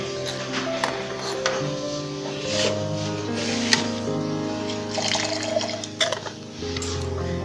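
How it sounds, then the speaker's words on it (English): A sand and water mixture poured into a funnel over a conical flask during a school filtration demonstration, giving a steady trickling, splashing pour that runs for several seconds over a faint background hum. "When we pour the water and sand mixture into the funnel, the sand remains as a residue, while the water goes down to the conical flask as a filtrate."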